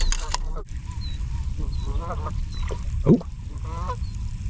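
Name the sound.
geese honking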